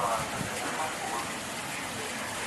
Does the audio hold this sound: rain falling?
yes